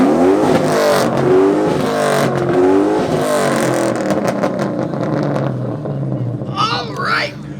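A car's exhaust roars through sustained revs at an exhaust competition, loud and close, with a cheering crowd and people talking over it before the engine settles.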